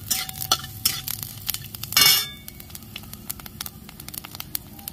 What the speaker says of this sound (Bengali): জিরে ফোড়ন দিয়ে দিচ্ছি, আদা দিয়ে দিচ্ছি, সব একসাথে আমি একটু ভেজে নেব।